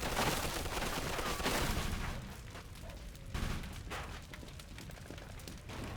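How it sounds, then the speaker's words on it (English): Sustained gunfire in the Mafia II video game, dense and loud throughout, with heavy bursts early on that ease slightly after two seconds, with no speech over it. "now the machine gun's gonna open up"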